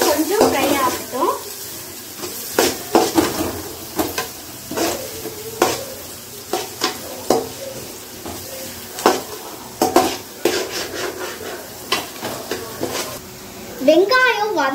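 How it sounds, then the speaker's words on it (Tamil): Onions frying in a pan for noodles, with sizzling under repeated sharp scrapes and clinks of a spatula stirring against the pan, and a voice speaking at times. "வெங்காயம் வந்து கொஞ்சம் ஃப்ரை ஆகட்டும்."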